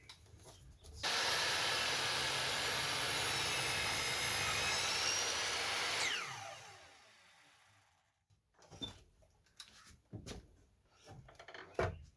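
A power saw set to a 45-degree bevel cuts a pallet board, a loud, steady whining roar lasting about five seconds that winds down, followed by scattered quieter knocks and handling noises.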